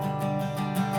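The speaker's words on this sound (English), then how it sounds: "If you're just strumming back and forth, it's going to sound like this." Acoustic guitar strummed steadily back and forth, an even wash of chord strokes played up close with no accents and no talking.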